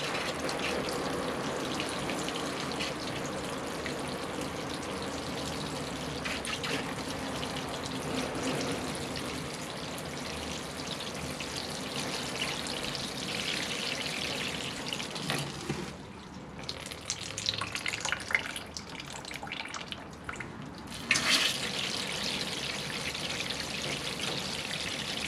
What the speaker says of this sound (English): So we'll come in with a good watering.